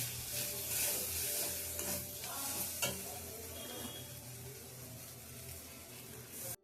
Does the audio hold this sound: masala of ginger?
yes